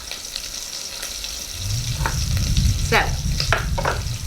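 Bacon sizzling in a frying pan while cooking outdoors, a steady crackling hiss that swells partway through, with a brief spoken word near the start.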